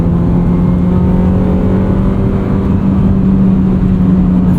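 A 1999 Honda Civic Si EM1 is driven with its engine held at a steady high hum. Loud, close cabin drone with road noise and a constant tone, without clear rev spikes and with no voices.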